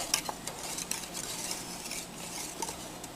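A whisk stirs thickening lemon pie filling with added sugar in a pot, giving soft, quick metallic scraping and swishing strokes, fairly quiet and close.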